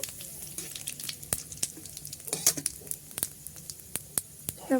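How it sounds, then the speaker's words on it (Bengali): A bay leaf fries in hot oil alongside cumin seeds in a kadai for vegetarian khichuri, giving a soft, close sizzle broken by irregular crackles and small pops, with no voices. "তেজপাতাটা দিয়ে দেব"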